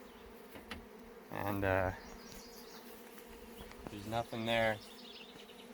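Honeybees buzzing around their hive as the colony is moved into a new home, a steady low drone throughout with a person talking briefly over it.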